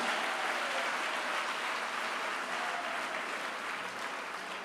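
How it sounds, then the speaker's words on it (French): A church congregation claps in steady, dense applause that holds at an even level throughout, moderately distant with no talk over it. "Je veux qu'on acclame les femmes qui ne parlent pas"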